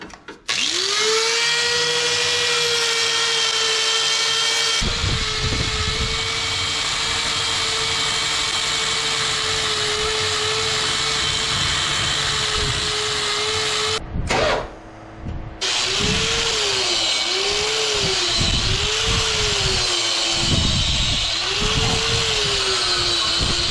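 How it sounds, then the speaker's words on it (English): A wire wheel scrubs old gasket material off an engine: a loud, steady high-pitched whine runs for about fourteen seconds, cuts out briefly, then returns with its pitch dipping and rising as it bears against the metal. "Start off with my wire wheel, just kind of clean off this gasket material."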